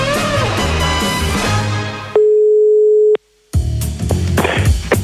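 A steady electronic telephone line tone holds for about a second while a TV game show calls a contestant, cut in between loud bursts of music and ended by a brief blip and a moment of silence.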